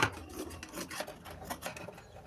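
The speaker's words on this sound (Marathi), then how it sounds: "आणि साईडचा कापड जो बाहेर निघालेला आहे ते कापून टाकायचं." Scissors snip away the excess fabric sticking out along the side of a bedsheet being sewn into a seat mat, a close, steady rasping cut with repeated strokes.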